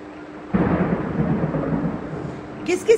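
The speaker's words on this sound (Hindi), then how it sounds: "यहाँ पे बहुत तेज बारिश हो रही है" Heavy rain pours down in a steady, dense hiss that starts suddenly and holds at a constant strength, with a brief voice near the end.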